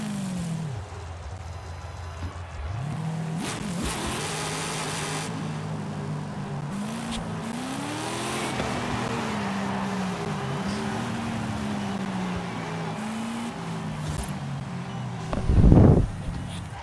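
Dodge Challenger Demon with a drag tune, engine revving in rising and falling surges while the tires are locked up, loud and close, with a brief sharp burst near the end.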